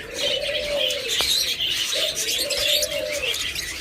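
Pet birds such as lovebirds, cockatiels and budgerigars are calling nearby in a dense, continuous chorus of chirps and tweets, with a couple of longer cooing calls standing out.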